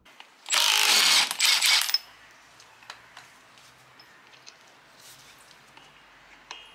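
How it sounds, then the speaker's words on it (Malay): Impact wrench fitted with a 24 mm socket removing an alternator pulley: a loud, dense burst of rapid hammering lasting about a second and a half, then quiet workshop ticks and small clicks. "Anda pakai soket saiz 24, lepas tu kita tembak je dia keluar."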